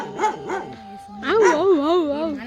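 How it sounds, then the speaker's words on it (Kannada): A dog nearby gives a few short whining yelps, then a longer wavering, howl-like whine, loud and close in an otherwise quiet outdoor setting. "ಇಲ್ಲೊಂದು ನಾಯಿ ಇದೆ ಗಾಯ್ಸ್"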